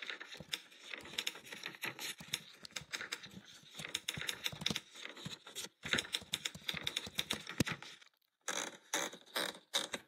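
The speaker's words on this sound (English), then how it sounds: "Someone created here a Remington typewriter." Rapid clacking keystrokes from a Remington typewriter app, irregular bursts of sharp clicks close to the mic with a brief pause near the end before the typing resumes.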